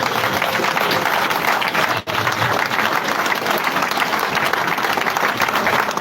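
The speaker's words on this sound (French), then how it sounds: "nous puissions nous tenir debout et que nous puissions acclamer fortement l'artiste" Sustained, loud applause and cheering from a funeral audience honouring an artist, dense and continuous throughout, with one brief dip near the start before the clapping swells back.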